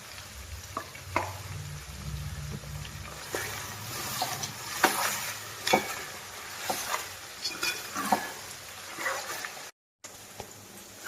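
Ginger garlic paste fries with chicken pieces in a pan for a village-style chicken fenugreek-leaf curry, a soft steady sizzle broken by repeated scraping stirs and clicks, fairly quiet, with a brief cut near the end.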